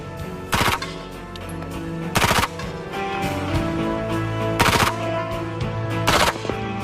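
An MP5 submachine gun fires four separate short bursts, each a loud, rapid, crackling volley, with brief pauses and low background noise between them.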